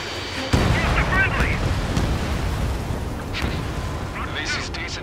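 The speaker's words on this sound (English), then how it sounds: "Missile." Missile launch and explosion from a MiG-29A in Ace Combat 7: Skies Unknown, a sudden loud burst followed by a rumbling roar, with radio voices chattering over the top.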